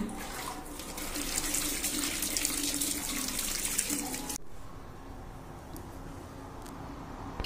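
Running water rinses hair under a tap or shower, a steady splashing gush for about four seconds that cuts off abruptly, leaving quieter faint drips and room sound.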